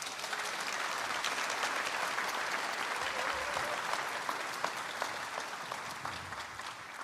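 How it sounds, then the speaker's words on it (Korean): Steady, dense applause from a large audience at a Korean ceremony on democracy, honoring citizens who confronted martial-law troops; the clapping holds at an even level throughout with no voices over it. "크게 박수 한번 부탁드립니다."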